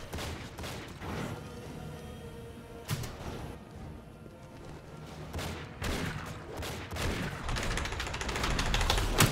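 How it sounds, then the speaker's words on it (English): Repeated bursts of gunfire from enemies shooting various weapons in the Enter the Matrix video game, sharp cracks and rattling volleys scattered throughout, building toward the end over busy game noise. "there are going to be a whole bunch of guys shooting at me with all kinds of different weapons"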